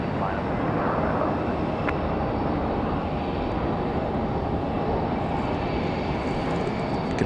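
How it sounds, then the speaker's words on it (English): An American Airlines A321 airliner touching down at Raleigh-Durham airport on a windy day, a steady broadband engine and wind roar holding constant throughout, with a faint voice underneath. "Going to be a nice smooth touchdown for the American A321, again from Charlotte"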